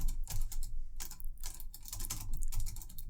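Steady, rapid clicking of keys on a computer keyboard, continuous and fairly close, with a low background hum.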